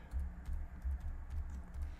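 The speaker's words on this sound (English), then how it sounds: "Okay, so then we're gonna type in" Quiet, close tapping of a computer keyboard as an IP address is typed, a quick run of light keystrokes over a low background hum.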